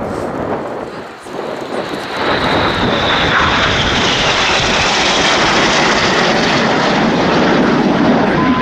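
Red Arrows display jets at RIAT 2016 roar overhead in close formation, a loud sustained rush of engine noise and wind that swells and holds steady.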